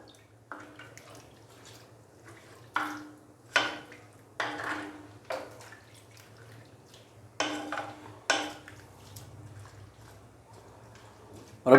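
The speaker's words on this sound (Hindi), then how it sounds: "पानी डालने के बाद अच्छे से हम इसको मिक्स कर देंगे" Beef karahi is stirred in a clay pot with a spoon, giving a series of separate scraping clinks spaced a second or two apart over quiet background hum.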